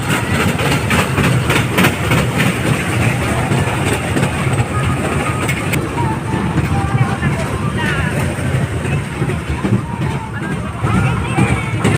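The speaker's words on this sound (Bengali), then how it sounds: "তো ফাইনালি এরপরে কিন্তু ট্রেন ছেড়ে দেয়" A train departs from a fair, rumbling steadily with continuous clattering and engine drone, loud and close, with voices in the background.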